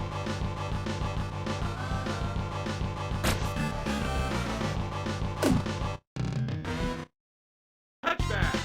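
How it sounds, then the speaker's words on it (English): Music from the Super Nintendo football game Tecmo Super Bowl, a thin MIDI-like synthesized tune that plays continuously and loudly, then cuts out in short gaps of silence before resuming near the end. "it sounds like this game was created with a cheap MIDI keyboard"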